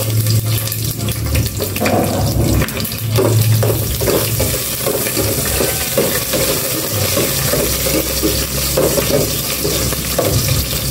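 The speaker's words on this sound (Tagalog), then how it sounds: "Naglagay na ako ng cooking oil. Gisa ko na itong bawang." Garlic sautéing in cooking oil while preparing a Filipino kakanin, giving a steady, close, loud sizzle with stirring scrapes throughout, and no talk.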